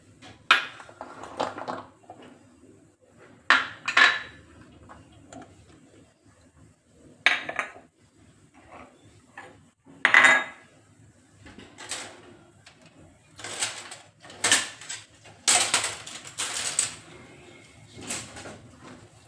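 Green chillies and other ingredients for a garlic fenugreek (lasuni methi) dish being chopped with a knife on a board, giving scattered close, sharp taps and clicks with pauses between bursts and no talk.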